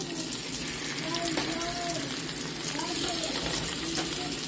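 Food shallow-fries in a pan of oil with a steady close sizzle and bubbling crackle that runs continuously, with a voice speaking over it.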